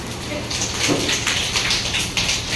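A group softly tapping fingers against palms, imitating pattering rain, with a steady rush of many small taps that swells slightly toward the end.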